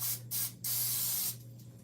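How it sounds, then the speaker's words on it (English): Three short hissing bursts from a can of nonstick cooking spray, the last one longer, close and fairly loud over a low steady hum. "we're going to spray a little bit of Pam on it, or nonstick spray"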